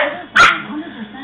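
A big dog and a little dog play together, and one sharp bark rings out amid soft whimpering and low growly sounds. The dogs are close by, and a person talks faintly in the background.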